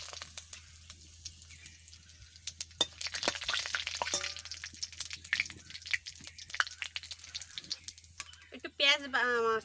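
Cumin seeds sizzle and crackle in hot oil in a pan, a bright frying hiss that swells loudly partway through, with a voice speaking over it.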